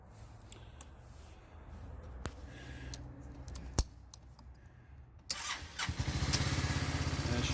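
A 2006 Yamaha Morphous scooter engine cranks and catches near the end, settling into a steady, close idle after scattered handling clicks and quiet rustling.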